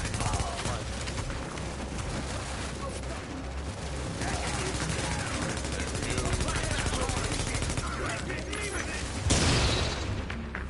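Dense, sustained automatic turret gunfire in the shooter game The Division, rattling continuously for the whole stretch with a heavier burst near the end, amid general battle noise with voices mixed in.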